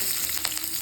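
Onion and garlic frying in oil, with a steady close sizzle and a few soft stirring scrapes over less than a second.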